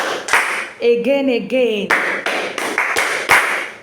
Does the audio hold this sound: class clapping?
yes